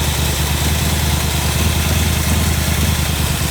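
A Studebaker car engine idles by itself with a steady, even chugging, close and loud, running without a break from start to finish.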